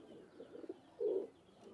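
Pigeons of the teddy breed, newly adult birds in a loft, give a soft low coo with a fuller burst near the middle, close by and calm, with no talking over them.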